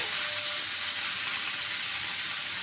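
Ghee sizzles in a pan of banana flower and prawn curry that has cooked down nearly dry. A steady, loud, even hiss of frying carries on without pause and no voice is heard.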